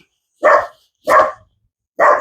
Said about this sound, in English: of course, Snickers is having a bark.